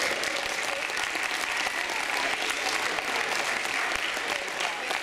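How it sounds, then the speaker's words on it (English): Sustained audience applause at an awards gathering, dense and even clapping from a crowd that keeps going steadily at full strength throughout. "Give them another round of applause."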